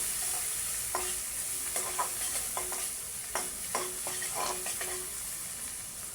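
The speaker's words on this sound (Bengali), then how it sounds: "পেঁয়াজ কুচি এবং তেজপাতা, লং, এলাচ দিয়ে ভালো করে নেড়ে চেড়ে নেব।" Chopped onion with bay leaf, cloves and cardamom being stir-fried in a pan: a continuous hissing sizzle punctuated by repeated spatula scrapes and taps against the metal, close up.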